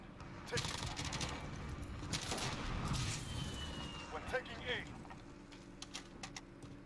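Modern Warfare multiplayer match with scattered distant gunfire and bursts of shots in the background, fairly faint, mixed with game sounds and occasional clicks while someone talks over it.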